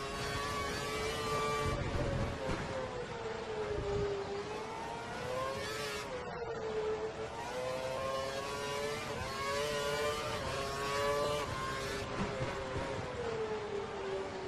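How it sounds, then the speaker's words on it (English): A Formula 1 car in the F1 2012 racing game at the Brazilian Grand Prix runs at full revs, giving a continuous, loud, high engine whine whose pitch rises and dips slightly, with a brief drop midway. "He's running full revs, maximum power."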